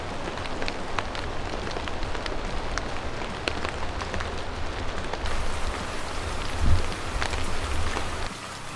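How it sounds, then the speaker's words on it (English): Steady rain falls at a campsite during a hike, a dense, even patter of drops striking nearby surfaces, with a low thump partway through and no voices. "It is raining right now."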